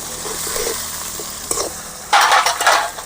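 Chopped onion and garlic hit a hot pan and are stirred, a close sizzle with utensil scrapes, then a louder burst of crackling frying near the end; no voices.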